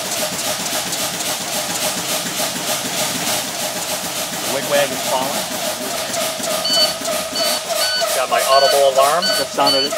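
School bus low air pressure warning alarm beeping in repeated tones during an air brake check, over a running engine with air hissing as pressure is fanned down.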